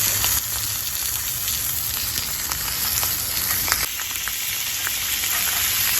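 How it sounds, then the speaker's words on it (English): Salmon sears skin-side down in a cast iron pan on full high heat, a continuous loud hiss and crackle of frying with small pops, steady and close. "I'll take the edge of that salmon and sear it. I have it on full high heat."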